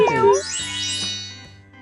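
A cartoon cat gives a single high, bending meow, followed by a steady sung tone, in a children's alphabet song with bright music playing behind it.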